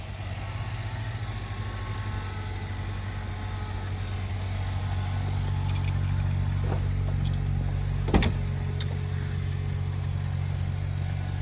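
Buick Cascada convertible idling after a remote start, a steady low engine hum running throughout at moderate volume, with a brief click or tap partway through and no talking.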